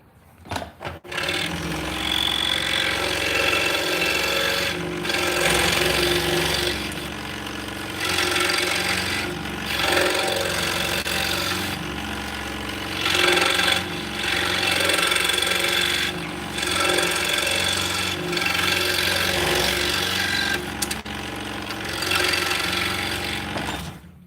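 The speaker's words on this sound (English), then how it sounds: "So we're just cutting little mortises in the center there." Cutting small mortises into the center of a wooden workpiece, with a continuous rasping, grinding tool sound that pulses in steady bursts with brief pauses, close and fairly loud throughout, with no talking.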